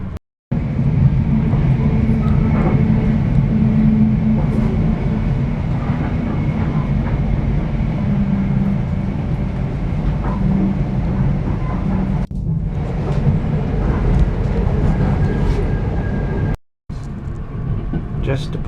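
A passenger train departing Caboolture, Brisbane rumbles steadily along the rails, a continuous low drone with occasional clatter, while a voice talks over it.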